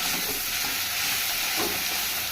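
A spice paste for fish curry sizzles and fries steadily in a pan, a close, continuous hiss with no voices.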